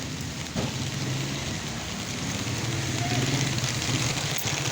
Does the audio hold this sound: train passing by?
no